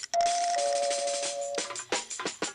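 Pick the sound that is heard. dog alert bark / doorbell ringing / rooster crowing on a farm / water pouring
doorbell ringing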